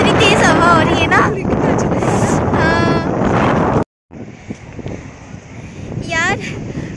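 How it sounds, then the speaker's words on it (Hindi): Strong stormy wind batters a phone microphone outdoors, a loud roaring rumble that drops out briefly and then returns, while people talk over it. "इतनी तेज हवा हो रही है"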